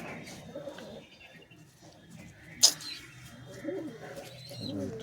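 Soft pigeon coos murmur near and fairly faint, with one sharp brief click or snap midway and a light rustle, no talk.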